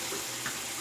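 A tap runs steadily to warm a Gillette Rubie double-edge razor blade, a faint, even wash of water at the sink, continuous through the whole moment with no voices.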